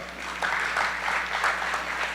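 Audience applause for a chairman at a community annual general meeting in Texas, a dense steady clapping from a crowd lasting about two seconds, close and fairly loud with no talk over it.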